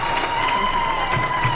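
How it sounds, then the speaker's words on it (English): Audience at an International Women's Day event claps continuously in a dense, even wash of applause, with a steady tone humming through the hall. "Can we give her a clap?"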